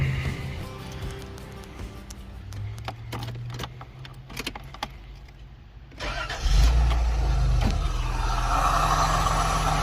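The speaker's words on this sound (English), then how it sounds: "let's show you the motor after a nice" An overland-build truck with a heavy, fully factory-original setup cranks over and fires, with low rumbling through the first seconds before the engine catches around six seconds in and settles into a loud, steady idle up close.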